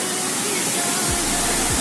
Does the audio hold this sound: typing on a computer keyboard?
no